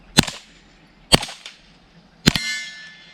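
Three suppressed .22 rifle shots through a Yankee Hill Machine YHM Phantom 22 suppressor, each a sharp, short crack about a second apart, the last followed by a faint ringing tail, outdoors and without talk.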